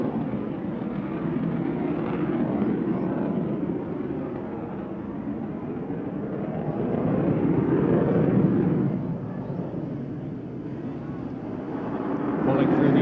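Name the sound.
US Navy Blue Angels aircraft performing a split S after takeoff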